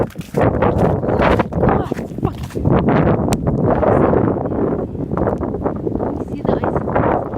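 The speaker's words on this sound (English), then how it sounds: "It is so windy right now." Strong gusts buffet the microphone in a continuous loud rumble, with a person's voice partly heard beneath the roaring wind during freezing rain.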